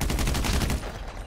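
Rapid bursts of gunfire from a video game crackle in a quick close volley for under a second, then fade into quieter background noise.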